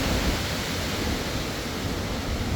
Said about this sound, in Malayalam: കാറ്റടിക്കുന്നുണ്ട്,